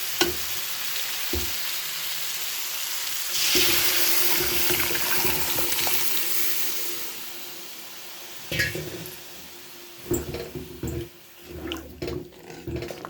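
Cooked chana dal goes into a pan of sizzling fried spice paste, producing a steady loud hiss and frying crackle, followed later by scraping, clattering stirring strokes, with no voices.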